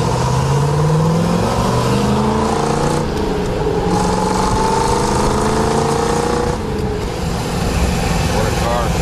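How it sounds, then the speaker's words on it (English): A frame-off restored 1959 Corvette with a dual-quad engine cruises along, its note rising and falling through several revving sweeps, loud and close, with a voice speaking faintly over it. "Time to go up the coast in the Corvette."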